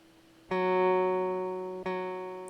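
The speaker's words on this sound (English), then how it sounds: "I'm just playing notes on the guitar, and it's with enough processing and reverb and distortion" Guitar notes drenched in heavy reverb and distortion, with two sustained tones plucked about a second and a half apart, each ringing out smoothly and loudly.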